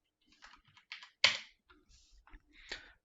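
Quick, uneven bursts of typing on a computer keyboard, with sharp clicks and short pauses, heard close and fairly quiet.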